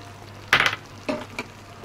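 Paneer butter masala gravy with cream just added, being stirred and fried in a pan, giving a short burst of sizzling and scraping followed by softer stirring sounds, close and alone.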